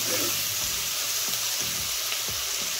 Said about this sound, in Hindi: तेल टिके गरम हो गला पकईदबा पियाज